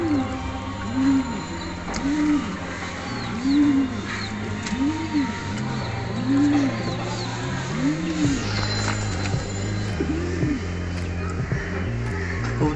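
Copper Archangel pigeons coo in a repeated rhythm of soft, rising-and-falling calls, about one every second or so, with other birds and background noise around them.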